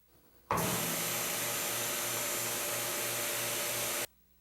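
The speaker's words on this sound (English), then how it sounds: "Attach the hose and draw a light vacuum again." A vacuum pump draws air from a vacuum bag in a woodworking shop, switching on abruptly into a loud, steady hiss and whir that holds for about three and a half seconds and then cuts off.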